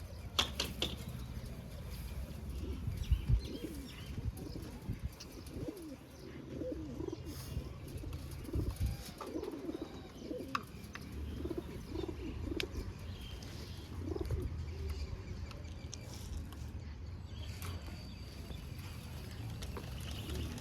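Racing pigeons, one of them recovering from an illness, coo softly in a series of low, throaty calls that repeat at an uneven pace, with occasional faint chirps and light background noise.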